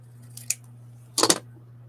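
Two short bursts of scissors snipping, a single cut then a quick cluster of crunchy snips through stiff, sticky paper, close up over a low electrical hum.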